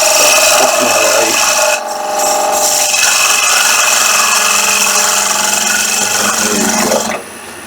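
A woodturning gouge rides its bevel into spinning wood on a lathe, producing a steady, loud scraping rasp that runs continuously, dipping briefly near two seconds and easing off just before the end.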